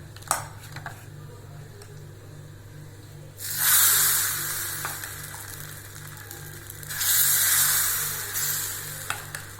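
Dosa batter ladled onto a well-heated griddle for a large uthappam-style dosa, with two surges of loud, bright sizzling and spattering over a low steady stove hum, fading between pours.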